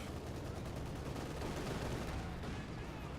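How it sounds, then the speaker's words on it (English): A T-34-76 tank fires in the Company of Heroes strategy game inside a dense, continuous wash of gunfire and battle noise, moderately loud and with no clear gaps. "T-34-76 is firing away."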